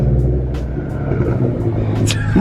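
A loud, steady engine drone from a turbocharged Nissan GT-R rumbles close by for a couple of seconds, with faint hissy bursts over it.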